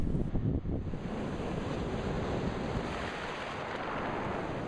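Waves roll in over a rocky, mostly stone beach in Nova Scotia, producing a steady, close rushing wash with wind noise on the microphone and no voices.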